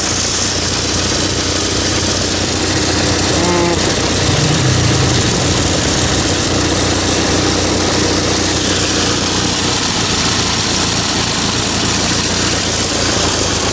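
Small engine idling roughly with a loud, continuous uneven drone that sits close and fills the whole stretch, and no talking.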